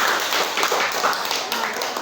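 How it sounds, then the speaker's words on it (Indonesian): Audience clapping at an Islamic competition held for a memorial haul, a steady dense patter of many hands filling the room, fairly loud and continuous throughout. "tepuk tangan untuk saudara Fahir dari Al-Ikhlas"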